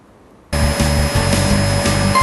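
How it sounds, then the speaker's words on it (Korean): A vacuum cleaner switches on abruptly from silence and runs at a loud, steady whine with a constant motor tone and slight pulsing rumble. "진공 청소기 소음"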